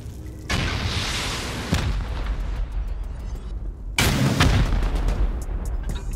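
Rocket explosions hit a base during a video game raid: two main loud blasts a few seconds apart, each a sharp crack followed by a rumbling tail, with smaller pops scattered between them.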